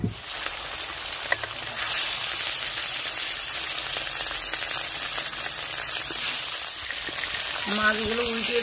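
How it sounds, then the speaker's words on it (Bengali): Pieces of katla fish fry in hot oil and are flipped in a pan, a dense, rain-like crackling hiss that holds loud and steady, with a brief tonal sound near the end. "মাছগুলো উল্টিয়ে দিচ্ছি।"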